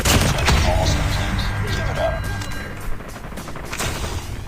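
Gunfire from Call of Duty Mobile fills the clip, with a loud burst of shots at the start followed by scattered cracks and booms that fade under continuing game noise.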